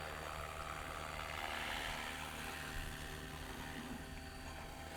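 An SAB Goblin Buddy 380 RC helicopter hovers low near the ground, its rotor producing a steady, dense whirring drone with a high-pitched motor whine that holds at constant loudness throughout, with no voices.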